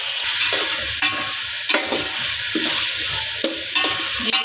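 Aloo pulao ingredients with tomato, potato, tamarind and spices are stirred in a hot pot, a loud close sizzle broken by repeated rhythmic scraping strokes of the spoon.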